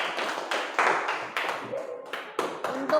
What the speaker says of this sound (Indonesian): berikan tepuk tangan untuk temannya